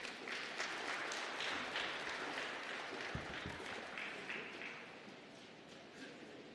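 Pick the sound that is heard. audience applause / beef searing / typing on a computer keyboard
audience applause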